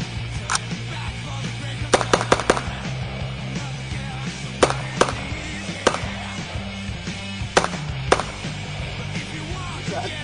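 Gunfire at the Phoenix Gun Club shooting range in Brooksville, Florida, sharp distant shots cracking out irregularly, singly and in quick pairs, over a steady outdoor background.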